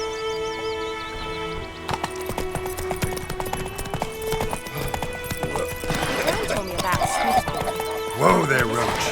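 Hooves of the horse Roach clip-clop at a trot in The Witcher 3, close and steady, with a neigh near the end, under background music and voices talking.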